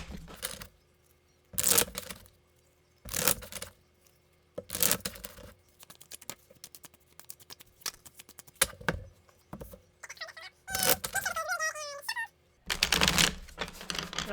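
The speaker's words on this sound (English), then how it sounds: "we're going to shuffle the deck really quick" A deck of playing cards is shuffled for a game of Tarocchi in repeated quick riffles, each a crisp close burst of rapid flutter and snap, separated by short quiet gaps and a brief shuffling rustle.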